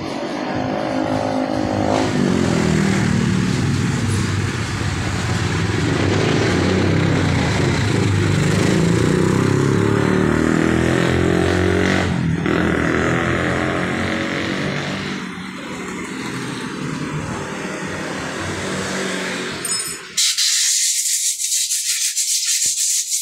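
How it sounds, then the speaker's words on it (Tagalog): A motorcycle engine in a repair shop, where a tubeless tire is being replaced, runs loudly and continuously for about twenty seconds with shifting tone, then drops off sharply into a brief harsh noise at the end. "Isang motor naman itong pinapaayos namin dito."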